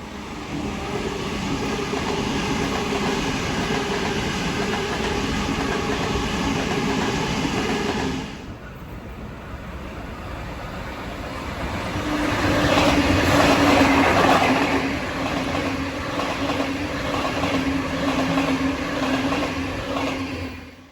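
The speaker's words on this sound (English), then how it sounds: "The Waratah trains have 8 carriages, as you can see here." A Sydney Waratah eight-carriage electric train rolls past steadily and fairly close for about twenty seconds, its broadband rumble briefly dipping then swelling again with a rising whine and rhythmic wheel clatter over the rail joints.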